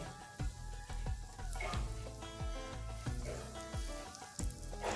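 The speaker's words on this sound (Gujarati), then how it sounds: "આ મિત્રો ગરમ તેલ છે હિંગ પર નાખવાનું હિંગ અને લવિંગ પર" Hot oil is poured over asafoetida and cloves for a gunda pickle and sizzles loudly up close. Steady frying crackle runs throughout, with repeated sharp clinks and scrapes of a utensil in a rhythmic pattern.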